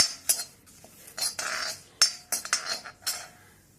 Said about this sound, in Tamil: அடுத்தது ஒரு 2 கொத்து கருவேப்பிலை. இதே நல்லா கிறிஸ்பாக வர வரைக்கும் வறுத்து எடுத்துக்கணும்.